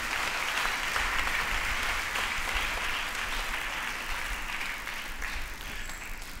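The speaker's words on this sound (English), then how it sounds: "Please, can we give him a round of applause again?" Audience applause at the 80th birthday celebration of a monsignor, a dense, sustained wash of many hands clapping that carries on steadily and fades a little toward the end.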